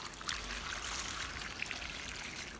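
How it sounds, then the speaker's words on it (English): Water pours steadily into a bowl of bok choy leaves sprinkled with baking soda, a continuous soft splashing stream heard close and alone for the whole stretch. "fill the bowl with enough water to cover the bok choy"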